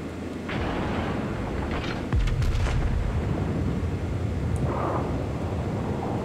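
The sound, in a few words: battleship Yamato main gun shots in naval video game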